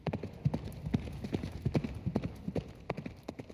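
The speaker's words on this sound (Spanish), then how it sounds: "Un día Lorenz cogió el caballo y galopó por la tundra" Horse hooves clatter in a quick, uneven rhythm as a galloping sound effect in a theatre staging, sharp knocks close and steady throughout.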